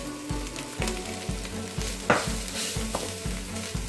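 Rice, green gram and grated coconut stirred together in a hot pan for Kerala kanji payar: a rhythmic series of close, regular scraping strokes about every half second over a soft continuous sizzle.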